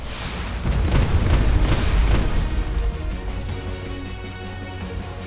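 A missile strikes a warship's hull in a mobile naval combat game, a loud booming explosion that erupts early and rolls into a long fading rumble and crackle.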